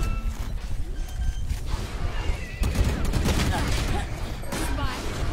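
Dense, continuous gunfire fills a battle royale video game, with rapid overlapping shots and booms sounding loud and close for the whole stretch.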